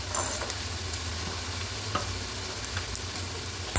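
Garlic cloves and green chilies dry-roasting in a hot, oil-free wok give a steady, close crackle and light sizzle, with faint scraping ticks from stirring throughout.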